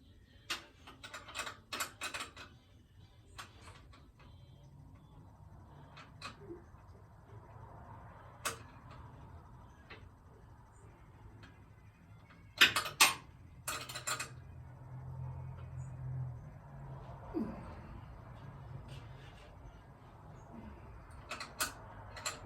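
A wrench tightens a fitting on a Plymouth Barracuda in an engine bay, giving scattered metallic ratchet clicks and clanks, a few sharper bursts near the middle, over a faint low hum.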